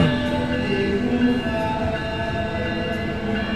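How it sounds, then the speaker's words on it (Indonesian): A passenger train in a railway simulator game rolls into a station platform, a steady loud rumble with sustained tonal hum and faint horn-like overtones, continuous throughout. "kereta api Jatiraja Tambahan masuk di stasiun Pamayang dan berhenti di jalur 1"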